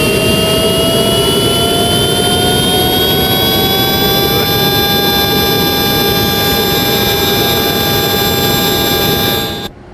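A Cessna Citation Sovereign C680 business jet engine: a loud, steady roar with a rising whine that climbs in pitch as it spools up, continuous for several seconds before cutting off abruptly.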